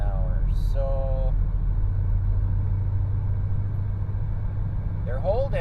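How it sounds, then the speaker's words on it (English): A 1995 Chevy S-10 pickup cruising in fifth gear at about 50 mph, with a steady low engine and road rumble heard from inside the cab throughout, and a voice speaking briefly near the start and end. "I'm in fifth gear. I'm running about 50 miles an hour"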